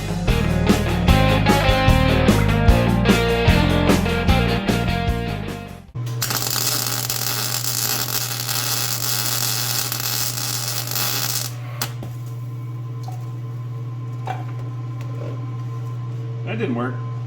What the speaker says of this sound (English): Got everything set up and ready to weld into place.